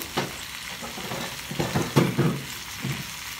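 A whole chicken goes into a hot wok, setting off a close, crackling sizzle with several bursts of stirring and scraping at uneven intervals.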